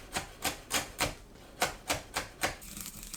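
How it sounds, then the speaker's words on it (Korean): A knife finely chopping Cheongyang chili peppers on a cutting board, nine evenly spaced crisp taps in a steady rhythm, close and clear with no talking. "청양고추를 작게 썰어주세요."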